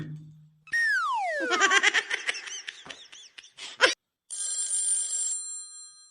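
A brief low electronic tone, then a bright chirpy ringtone melody with sweeping tones and quick notes, followed after a short gap by a steady high ringing tone.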